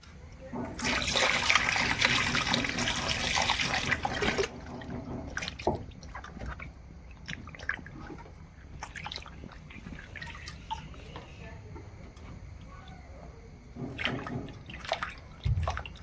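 Tilapia fish are washed in water, opening with a few seconds of loud splashing and pouring, followed by quieter sloshing, dripping and handling of the wet fish up close.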